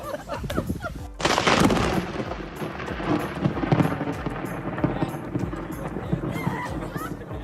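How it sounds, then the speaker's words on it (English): A lightning strike cracks and booms loudly during an outdoor wedding speech, its thunder rumbling on under ongoing talk and crowd noise. "this groom managed to get an incredible effect when a lightning hit right after he said 2020 has not been the best year"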